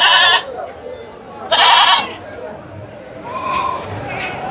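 Goats bleat at the Ranipettai goat market: two loud, nasal bleats close by, separated by a pause, with fainter animal calls and people talking in the busy background.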